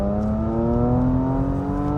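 Porsche Macan GTS accelerating on the road, heard from inside the cabin as a steady, loud engine drone with a rising pitch that climbs smoothly across a short two-second stretch.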